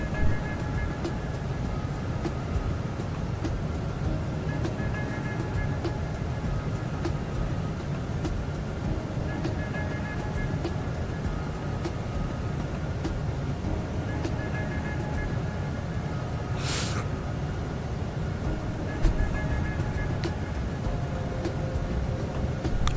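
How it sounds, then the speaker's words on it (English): Steady, continuous engine drone of an Airbus A380 airliner in Microsoft Flight Simulator 2020, flying an Etihad route from Abu Dhabi to Paris, a constant broadband hum at even loudness throughout with no talk. "enjoying the engine ambience"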